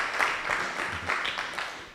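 Crowd applause at the Telkom Gaming Hackathon winner announcement, a steady patter of many hands clapping for about two seconds with a voice faintly underneath.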